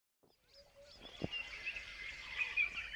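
Faint video game bird chirps and tweets rise over a quiet background, a thin high-pitched call lingering after a brief knock.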